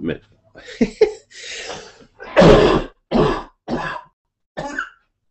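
A string of short, forceful coughs and throat-clearing bursts, close to the microphone, separated by brief pauses.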